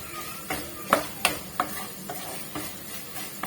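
Kashmiri chillies sautéing in oil for lime pickle, a soft steady sizzle broken by a few sharp scraping stirs of a spoon in the pan, close and alone.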